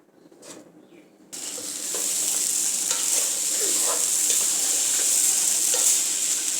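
Vegetable egg fried rice with pre-fried eggs is stir-fried in a pan, giving a steady close sizzle with scraping stirs that starts after a quiet moment and keeps going to the end.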